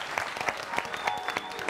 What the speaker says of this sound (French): On va l'applaudir encore très fort s'il vous plaît, Sylvain.